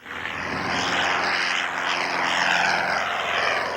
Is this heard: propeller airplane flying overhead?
yes